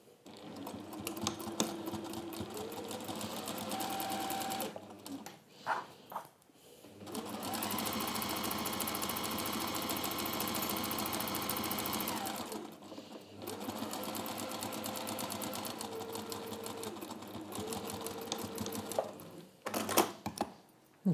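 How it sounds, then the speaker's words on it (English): A sewing machine stitches a generous quarter-inch seam across the lining of a zipper tote. It runs in long, loud, steady bursts near the microphone, with brief pauses between passes. "I'm going to go in with 1/4 inch, with a really generous 1/4 inch, and stitch that from the top"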